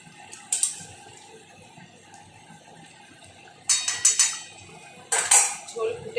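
Catla fish pieces going into a boiling curry and being gently stirred, heard as a quiet simmer broken by bursts of clattering utensils and pan knocks.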